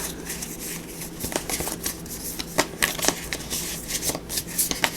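Tarot cards being shuffled by hand, a steady run of crisp, close riffling slaps and flicks with no talking.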